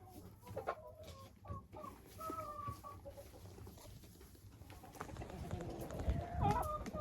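Old hens in a closed coop during hard frost, clucking in scattered short calls and murmurs at close range, with some rustling and movement growing louder toward the end; quiet overall.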